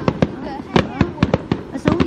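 Fireworks bursting on Lunar New Year's Eve in the United States, a rapid string of sharp cracks and pops at close range, with people talking over them.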